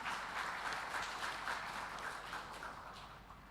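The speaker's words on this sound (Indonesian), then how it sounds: "Kita beri tepuk tangan." Audience applause at a public debate between regency head candidates, a broad continuous wash of clapping from a large hall that stays fairly even, then tapers slightly toward the end, with no clear talking.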